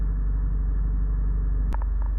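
A Honda CR-V 2.2 i-DTEC diesel, EX auto 4WD, idling with a steady loud low rumble and drone heard from inside the car, a brief click near the end, no talking.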